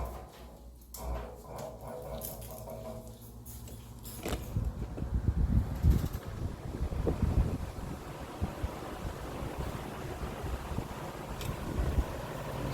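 A 1963 International 20-inch window fan runs on high, starting as a quieter whir and swelling into a loud, gusty rush of moving air with buffeting wind noise against the microphone. It is close and continuous, with no talk.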